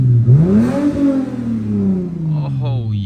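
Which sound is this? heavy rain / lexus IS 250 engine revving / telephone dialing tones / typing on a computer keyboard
lexus IS 250 engine revving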